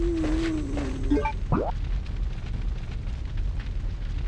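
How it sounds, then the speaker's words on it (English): A steady, crackling fire roar fills a dark area in Resident Evil: Code Veronica, with a few brief tonal game sounds near the start and the blaze continuing alone throughout. "I do like the fire effect though"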